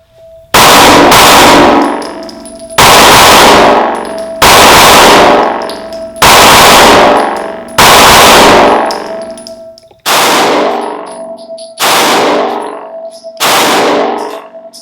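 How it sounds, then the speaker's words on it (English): Seven loud shots from a 9mm subcompact pistol at a shooting range, each a sharp crack with a ringing, decaying tail, fired at a steady pace about two seconds apart with no talking. "So I really just want to shoot a couple rounds through it."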